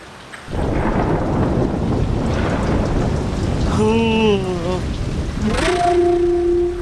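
Heavy rain pours down in a dense, steady roar with rumbles of thunder, loud and continuous throughout, while a low tonal wail rises and bends partway through and again near the end.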